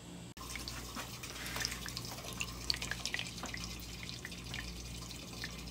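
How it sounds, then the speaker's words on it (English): Water runs steadily from household sinks near cracked cast iron sewer pipes, a continuous soft rushing with small drips and splashes, moderately quiet and with no talking. "As you can hear, the sinks are running."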